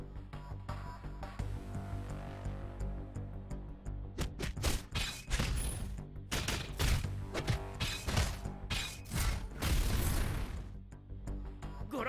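A series of booming explosions and sharp bursts in the video game One Punch Man: Road to Hero, building in intensity over a low rumbling bed, loud and close.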